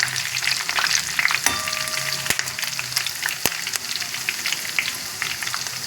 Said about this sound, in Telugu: వెల్లుల్లిపాయ గుమ్మగుమ్మలు కరివేపాకు చిట్టపట్టలు కలిపి